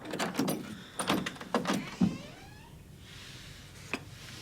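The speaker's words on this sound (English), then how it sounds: "gonna open the door." An indoor door is opened in a TV drama scene: a few quiet clunks and handle rattles come first, then a soft creaking swing, all fairly faint with no talk over it.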